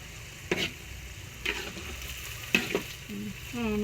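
Food fries in a pan with a steady soft sizzle while a utensil stirs it, scraping and clinking against the pan several times at irregular intervals.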